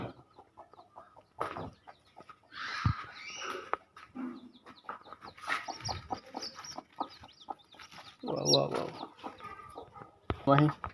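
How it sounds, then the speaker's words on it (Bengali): A hen clucks in short, scattered bursts, with a few faint high peeps from chicks and voices talking nearby. "একটা সুন্দর মুরগিটি বাচ্চা উঠাইতেছে"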